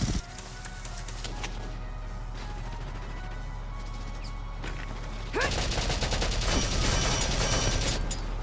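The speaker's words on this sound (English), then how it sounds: "As I shoot my own tank." A player firing at their own tank in Valkyria Chronicles: a steady rattle of gunfire with metallic clanks, growing louder and denser near the end, with no voices.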